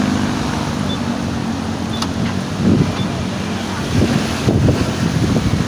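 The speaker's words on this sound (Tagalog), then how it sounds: "Ang lakas ang hangin." Strong monsoon wind at Okada Manila buffets the microphone in a continuous roar, with heavier gusts surging a few times; faint voices may sit beneath the noise.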